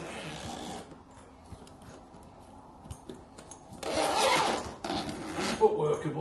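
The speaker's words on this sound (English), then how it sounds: "Bit confusing with the zips." Zippers rasp open on the fabric storage cover of a BLUETTI Handsfree 2 backpack-style power station, with quiet handling rustles followed by louder, longer zip pulls near the microphone.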